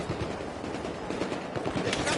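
Battlefield 4 gunfire, a dense rapid rattle of automatic shots close by, sustained and loud throughout a short burst with no pauses.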